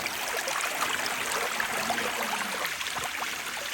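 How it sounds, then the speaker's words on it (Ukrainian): A small mountain river in the high Carpathian forest flows with a steady, moderately loud rushing and trickling that stays even throughout, with no talk. "Знову наша річечка тече, співає."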